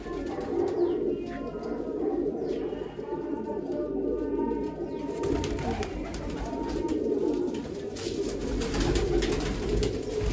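Pigeons coo continuously at close range, soft throaty calls layered over one another with a few faint chirps mixed in, and no talking.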